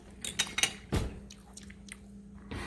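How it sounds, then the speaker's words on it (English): Close, loud chewing of pumpkin pancakes, with several wet, squishy bites in quick succession followed by quieter mouth sounds; no talking. "I noticed how loud my chewing is when I film."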